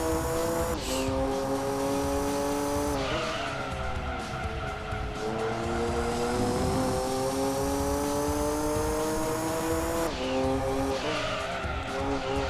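A turbocharged race car engine in Gran Turismo 2 roars loud and continuous, its pitch climbing through gears with sudden drops at each shift, over a constant layer of tire and road noise.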